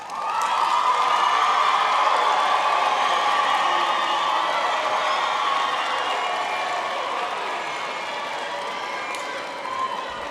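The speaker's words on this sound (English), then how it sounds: "Please turn to them and you give them an applause." Graduates at a UP autumn graduation ceremony applaud their supporters: a dense, sustained roar of clapping and cheering from a large crowd that holds steady for about ten seconds and eases slightly toward the end.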